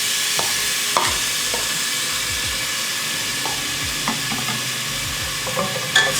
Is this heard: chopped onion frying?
yes